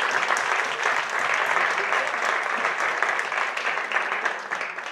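Audience applause fills the room at a school sports trophy ceremony, honoring a young volleyball referee from Saint-Brieuc; steady, dense clapping holds throughout at an even loudness, with no voices on top.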